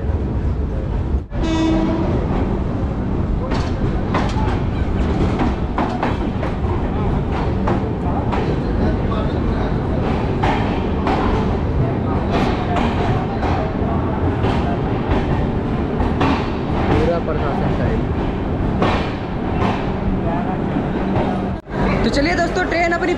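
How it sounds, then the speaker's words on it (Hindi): The Sapt Kranti Superfast Express rolls along the rails with a continuous loud rumble and rhythmic clatter, with a horn blast near the start and voices in the carriage underneath. "ट्रेन अपनी पहुंच चुकी है अपने ट्रेन के एक और हॉल्ट"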